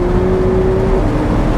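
A McLaren 675LT Spider sports car engine drones loudly with a steady exhaust roar and a brief whining tone, close and continuous.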